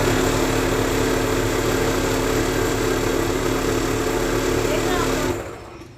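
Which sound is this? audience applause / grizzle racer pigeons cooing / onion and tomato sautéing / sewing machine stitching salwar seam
sewing machine stitching salwar seam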